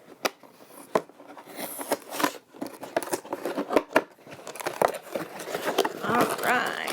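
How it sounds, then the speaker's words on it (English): Shrink wrap torn and peeled off a salt-water-powered robot kit box, a run of crinkly rips and crackles with sharp snaps, close and fairly loud, no talking. "Get rid of that shrink wrapping."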